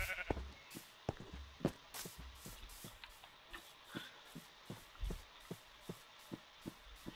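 A sheep in Minecraft Bedrock Edition bleats clearly while regular footstep clicks tap along steadily in the background.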